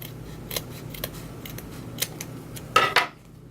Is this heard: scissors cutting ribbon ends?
yes